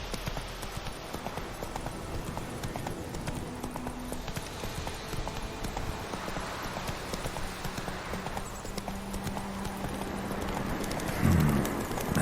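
Steady hoof clip-clop of a galloping horse in The Witcher 3 video game, a continuous rhythmic beat under ambient game sound, fairly loud throughout.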